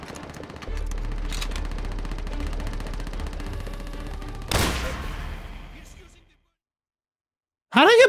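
Gunfire in Call of Duty: World at War, with a dense, sustained rattle of shots and one sharp loud blast near the middle, then a brief silence before another burst starts.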